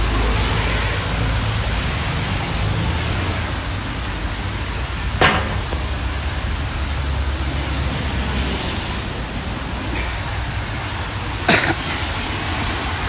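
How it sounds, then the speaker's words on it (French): Rain falling outdoors as a steady broad hiss of noise throughout, with two sharp brief knocks standing out over the wash. "Ah, la pluie."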